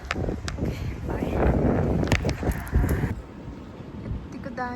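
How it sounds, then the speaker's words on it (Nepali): Outdoor wind gusts buffet the microphone with an uneven, rumbling rush that swells and fades, with faint voices mixed in. "अझ हावा आइरहेछ सिरिरी"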